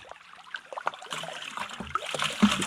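Water splashing and trickling as a prospector rinses gold-panning material out of a bucket, a steady near wash of small splashes and dribbles with no talk.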